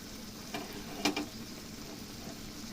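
Prawns being stirred and fried in a pan, a low, steady sizzle broken by a few quick scraping strokes of a utensil against the pan.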